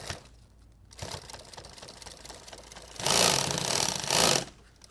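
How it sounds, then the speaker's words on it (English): A sewing machine stitches down a pull tab on a bag. Two bursts of rapid, steady needle clatter run up close, with a short pause between them. "I really should sew this down before I sew the pull tab on."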